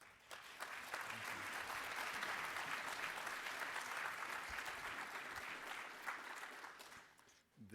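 An audience at a 2011 WorldAffairs talk claps steadily for James Zogby as he is welcomed, a dense, sustained round of applause that holds for several seconds before tapering off near the end.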